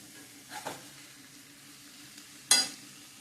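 Cowpea leaf greens being stirred in a pan as they cook, giving two short scraping stir sounds, one soft around the midpoint and a sharper, louder one near the end, over a faint low sizzle.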